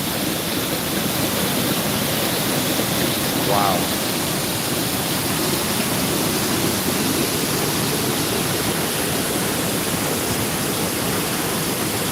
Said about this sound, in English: So that water's rushing right up the pipe.